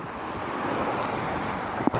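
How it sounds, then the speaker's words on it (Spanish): Surf rolls onto Gun Beach in Tumon, Guam, a broad continuous wash of waves mixed with wind rumbling on the microphone, with a faint brief knock near the end and no talking. "Ya llegamos a esta playa."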